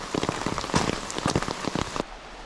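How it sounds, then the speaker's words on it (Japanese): Steady rain falls at a tent campsite in Kamikochi, drops pattering close and densely on a surface. The patter cuts off abruptly near the end. "でもちょっと、これは続きそうな雨なんで、"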